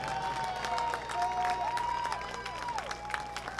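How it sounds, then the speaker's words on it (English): A football-stadium crowd applauds the Navarre Raiders senior football players, class of 2025, with steady clapping and scattered cheers, while a wavering melodic tone plays through the crowd noise. "one more big round of applause for your Navarre Raider football player seniors"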